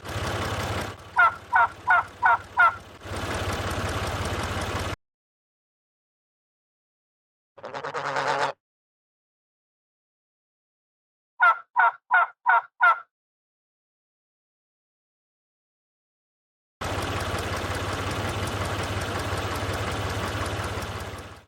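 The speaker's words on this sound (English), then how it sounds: "Turkeys." Farm turkeys gobbling in two bursts of rapid, rattling calls, each a quick string of about five pulses, set between stretches of steady low rumbling background and silent gaps.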